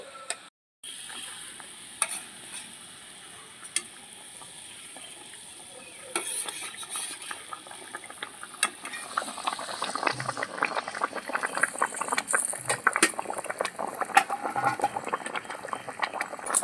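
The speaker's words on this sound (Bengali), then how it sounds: "ঝোলটা ভালো মতন ফুটে উঠেছে ভেজে রাখা মাছগুলো আমি এখন দিয়ে দিচ্ছি" Olive barb fish curry with mustard bubbles and sizzles in a pan, a steady soft simmer with scattered pops and crackles that grow busier toward the end, while a utensil stirs now and then.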